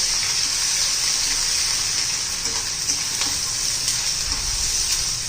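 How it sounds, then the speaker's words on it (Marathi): Ginger-garlic paste hits hot oil with curry leaves and sizzles hard and steady, a loud broadband frying hiss with scattered pops and faint stirring, close and uninterrupted throughout. "आता आलं लसूण पेस्ट घालायची आहे."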